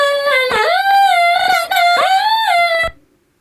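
Unprocessed vocal chop serving as the lead line in a pop-electronic drop, a pitched sung syllable sliding and gliding in choppy repeated phrases, loud and dry with no other instruments, cutting off abruptly near the end.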